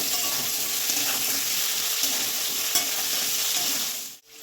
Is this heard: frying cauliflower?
yes